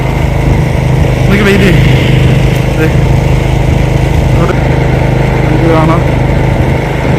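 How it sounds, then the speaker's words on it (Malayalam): Small engine drone of a snow blower clearing snow in the distance, a steady continuous hum under someone talking nearby in a snowy Canadian neighbourhood. "അങ്ങേയറ്റത്ത് ഒരു ചേട്ടൻ അവിടെ സ്നോ ബ്ലോ ചെയ്യുന്നുണ്ട്."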